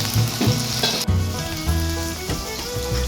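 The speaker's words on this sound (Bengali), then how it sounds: "আলুটাকে একটু লাল লাল করে ভেজে নেব" Potatoes frying in mustard oil, giving a loud, steady sizzle and crackle close by, with occasional stirring scrapes and no talking.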